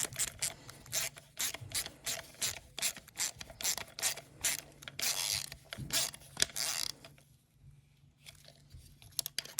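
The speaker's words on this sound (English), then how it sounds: "Grab your ratchet, turn it to tighten" Close, rapid clicking of a hand ratchet tightening a bolt on a lawnmower carburetor during cleaning. The clicks come in repeated bursts and stop near the end.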